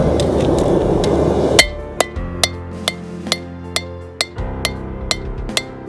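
A blacksmith's hammer strikes hot steel to flatten a forged leaf, about a dozen sharp ringing blows spaced roughly half a second apart after a brief stretch of noisy background.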